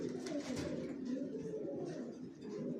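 Young racing pigeons crowded in a cage, a steady low murmur of overlapping coos rolling on continuously, close and fairly soft with no clear speech.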